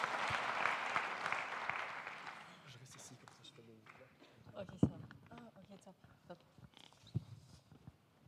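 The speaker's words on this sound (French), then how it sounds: "Je vous propose de l'applaudir bien fort" Audience applause welcoming a speaker to the stage at a climate-themed event, a dense burst of clapping for about two seconds that then thins out into scattered movement and murmuring.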